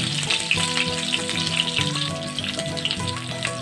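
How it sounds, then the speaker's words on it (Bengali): Potato pieces crackle and sizzle in hot mustard oil in a kadai, a loud, continuous bubbling hiss with small popping bursts and no voices. "তেলটা একটু গরম হলেই আলুগুলো আমি একটু ভেজে নেব"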